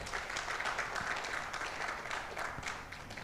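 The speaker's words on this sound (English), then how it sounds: "I think we need to clap for ourselves." Sustained applause from a conference audience of delegates in Ghana, a dense, steady wash of many hands clapping together at close range, with no talking over it.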